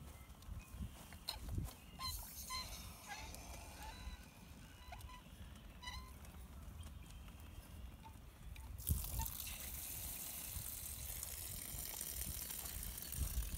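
A garden hose is turned on to rinse a rock tumbler, starting with faint drips and clicking handling, then a sudden steady rush of running water takes over for the final seconds.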